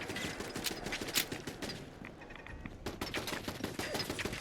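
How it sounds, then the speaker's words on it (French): Machine gun fire in Fallout 4 crackles in dense, rapid bursts. The shots come in fast clusters, moderately loud, with a short lull in the middle before the firing resumes. "Et une mitrailleuse, c'est pas grave."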